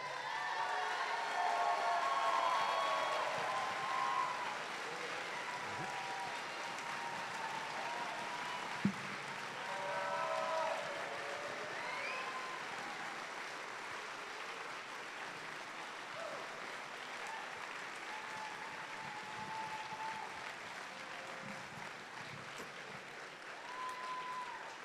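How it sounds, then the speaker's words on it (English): A big, sustained round of applause from a crowd in an arena at the opening ceremony of a FIRST Robotics Competition district event in Auburn, broad and continuous for the whole stretch with faint cheering mixed in. "if the following 6 students would please stand, and we'd give you a big round of applause."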